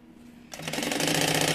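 After a brief quiet moment, a sewing machine starts up and runs at a steady, rapid clatter while stitching along the edge of the lining of a small 2-in-1 mini backpack.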